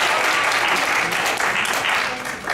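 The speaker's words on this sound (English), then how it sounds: "let's give our teachers" A church congregation at a vacation Bible school service claps for the teachers, a full, steady round of applause that holds loud and then begins to taper at the end.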